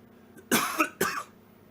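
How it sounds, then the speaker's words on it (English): A person gives two short, sharp coughs about half a second apart, close to the microphone in an otherwise quiet setting. "Sometimes I want to cough a little bit just because it helps clear that area in my esophagus"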